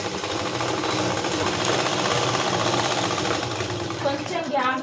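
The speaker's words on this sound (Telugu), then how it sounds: "ఆ గుర్తు వరకు కుట్టు వేసుకోవాలి" A sewing machine stitches a blouse hem in a tailoring class, running steadily and loudly with a fast, even mechanical chatter throughout, while a voice is faintly heard near the end.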